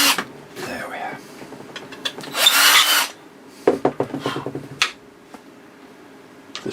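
A power drill drives screws through a wooden shelf on a bench: a short, loud whirring burst, then scraping and knocking handling noises, with someone talking in between.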